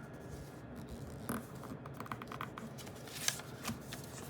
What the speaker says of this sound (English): you're just gonna fold it onto the other side.